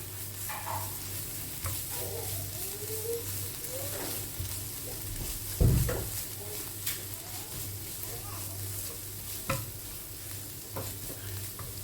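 Ground chilli, cumin and black pepper powders sauté in oil in a pan for shakshuka, giving a steady close sizzle with occasional stirring scrapes and a brief louder clatter midway.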